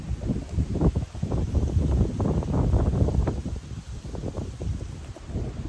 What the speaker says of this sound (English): It's raining, very windy.